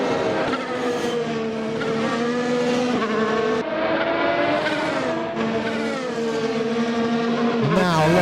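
Race cars in a sim racing game, including a McLaren and a Ferrari, whine continuously at high revs with rising and falling engine tones through a sequence of bends, loud and unbroken.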